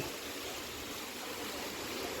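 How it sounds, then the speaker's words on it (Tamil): Borewell water pours into a well on a coconut grove farm in Theni district, giving a steady, even rushing and splashing wash that stays constant and fairly soft for the whole stretch, with no voices. "போர் தண்ணி உள்ளே விழுது கிணத்துலையும் தண்ணி இருக்குது எல்லாம் ஓடிட்டுருக்கு"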